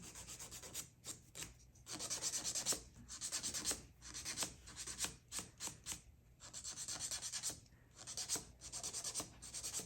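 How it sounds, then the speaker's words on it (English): Nail file rasping across a fingernail during a triple vitamin dip nail application, close up, in repeated bursts of back-and-forth strokes with short pauses between them. "So explain the process of filing and exactly why you're doing it and how you're doing it."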